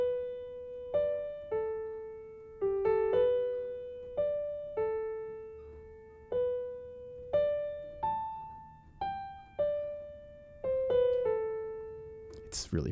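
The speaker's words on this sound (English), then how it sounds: "Zelda's Lullaby from the Legend of Zelda series" Zelda's Lullaby from the Legend of Zelda series played as a solo piano melody, slow single notes ringing and decaying one after another, soft and clear with no talking.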